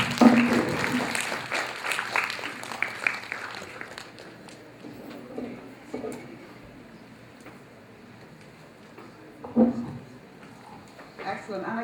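Audience applause at a live doctor-patient interaction presentation, a broad clapping wash that is loudest at the start, then thins and fades beneath a speaking voice, with a brief swell again near the end.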